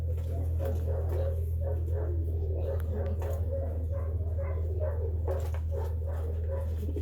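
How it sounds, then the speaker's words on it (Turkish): A Chinese lion dog barks and whimpers in short, repeated yips over a constant low hum, fairly close. "Çin aslanı köpeğimiz."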